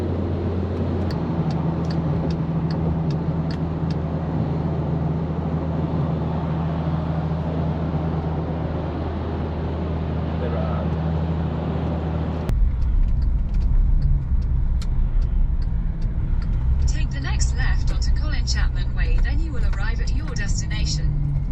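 A race car at Brands Hatch GP circuit during an MSVT SuperCup event gives a loud, steady engine drone from inside the cockpit, with the pitch shifting partway through.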